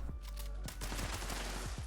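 Automatic gunfire from a weapon in Fallout 76 with the trigger held down, a rapid string of close, loud shots over a steady low rumble.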